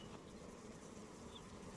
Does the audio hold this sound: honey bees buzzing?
yes